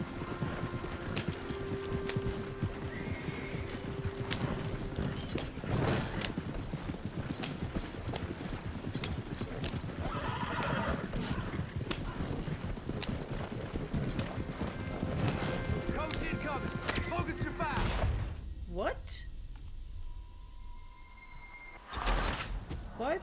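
Horse hooves clip-clop steadily in Red Dead Redemption 2, a continuous trotting rhythm with occasional whinnies, door and mechanism sounds and a speaking voice over the game.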